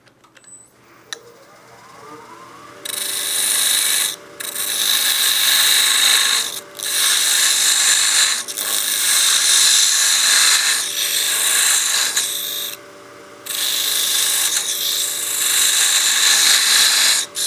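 A parting tool cuts into a spinning wooden block on a lathe, giving a loud, harsh scraping hiss that comes in several long bursts with short pauses between them, over a steady motor hum.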